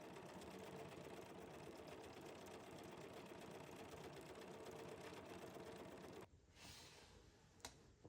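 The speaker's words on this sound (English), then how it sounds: "it's gonna do its little stitching" A sewing machine stitching a quilt block runs in a steady, rapid mechanical whir for about six seconds, then stops, leaving a few faint clicks and handling noises.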